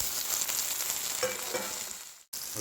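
Garlic and tomatoes sautéing in a pan for a country chicken rasam, a close continuous sizzle with light stirring scrapes, cutting out abruptly near the end before resuming briefly.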